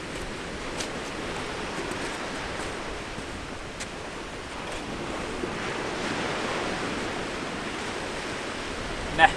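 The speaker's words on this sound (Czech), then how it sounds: "Je taky příliv, tak si musím dávat hodně velký pozor, aby mě teď to nespláchla voda." Sea waves at high tide wash steadily over the shore, a continuous broad surf roar with wind across the microphone and no pauses, ending in a brief louder bump.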